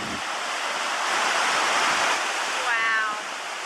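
Upper Falls waterfall in the Yellowstone canyon, a loud, continuous broadband roar of rushing water heard close by, steady throughout with a brief faint whistle-like tone near the end.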